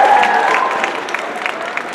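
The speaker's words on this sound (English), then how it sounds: "So let's give him a round of applause." At a leadership keynote, an audience gives a short round of applause, a brief patter of clapping with a few crisp claps standing out, moderately loud and tapering over two seconds, with a faint tone at the start.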